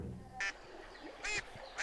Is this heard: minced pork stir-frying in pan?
no